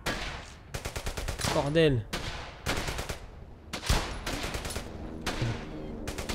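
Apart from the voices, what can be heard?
rifle gunfire in the video game Brothers In Arms: Hell's Highway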